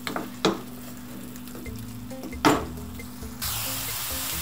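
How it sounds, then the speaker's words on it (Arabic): Onions fry in a pan with green and red peppers, a soft steady sizzle broken by a couple of sharp clatters as ingredients are stirred or added, then a louder, brighter hiss near the end. "نشحروا البصله ديالنا تقريبا واحد ربعة حتى الخمسة ديال الدقائق، عاد غادي نضيفوا الفلفل الاخضر والاحمر يتقلاو مع بعضها"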